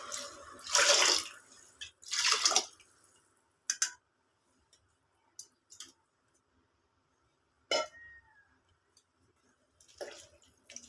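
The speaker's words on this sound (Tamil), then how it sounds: "மூன்றரை கப் தண்ணி சேர்த்திருக்கிறேன்." Water poured into a cooking pot of rice and gravy for chickpea biryani, with two loud splashing pours near the start followed by sparse drips, clinks and short bursts against quiet.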